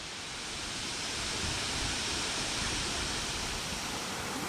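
A waterfall in Meghalaya pours in a steady, loud broadband rush of falling water, constant and close throughout, with no voices.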